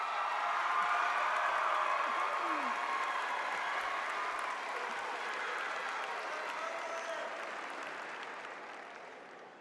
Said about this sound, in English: I mean, let's give Dolph a round of applause